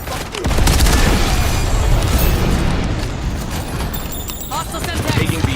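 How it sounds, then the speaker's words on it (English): Napalm strike explosions in Call of Duty multiplayer come as a sustained, loud roar of blasts and rumble lasting several seconds, with gunfire and voices over it. "Grim, requesting napalm strike"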